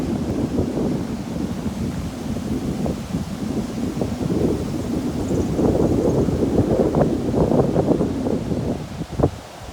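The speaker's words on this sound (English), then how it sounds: "It was a really windy day," Steady wind at Little Llangothlin Lagoon buffets and roars across the microphone throughout, a continuous low rushing with gusty swells and a sharp thump near the end.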